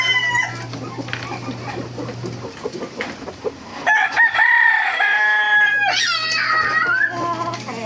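A backyard rooster, one of several prized gamefowl, crows loudly and close by in two drawn-out calls, with other birds and faint background sounds between them.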